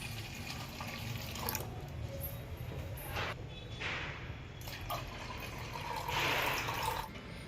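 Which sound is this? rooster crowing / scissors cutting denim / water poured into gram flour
water poured into gram flour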